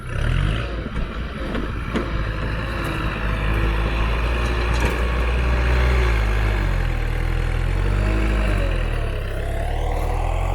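A Kubota L5018 tractor fitted with modified springs runs steadily near the listener, a low rumbling engine drone that holds fairly even throughout with occasional small shifts in pitch.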